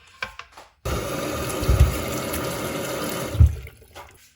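White radishes washed under running water: a tap gushes steadily at close range after a few soft handling knocks, with a couple of low thumps, then cuts off.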